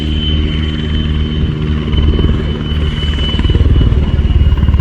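A search and rescue helicopter at an airshow, fitted with floats and a winch, gives a steady loud rotor and engine drone with a rhythmic chop that strengthens toward the end, with no talk.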